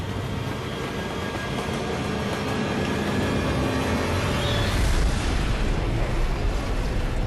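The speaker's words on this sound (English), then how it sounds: "Tests like these proved the flasks could survive a 100-mile-per-hour train collision." A train collides with a nuclear waste transport flask in a crash test, heard as a dense, loud rumbling roar that swells near the middle and continues without pause.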